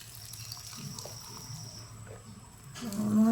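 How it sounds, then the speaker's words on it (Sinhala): Hot water from a dispensing machine pours into a ramen cup, a quiet, steady watery stream that swells louder toward the end. "උණු වතුර දාගත්තා."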